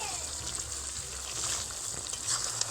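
Chicken sautéing in an open pan with tomato, onion and capsicum gives a soft, steady sizzle at low volume, a faint continuous hiss close by and no clear talk.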